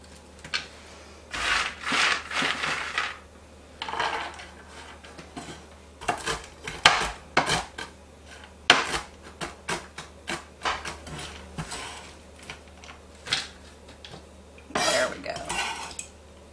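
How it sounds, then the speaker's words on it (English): Irregular knife strikes and scraping as pecans are chopped on a cutting board, clattery and close, with bursts of quick chops between quieter gaps. "while I'm chopping these up"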